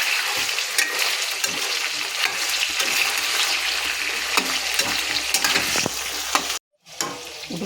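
Stuffed ivy gourd curry cooks in oil in a pan, giving a steady loud sizzle and bubbling that runs on alone, broken by a brief drop near the end.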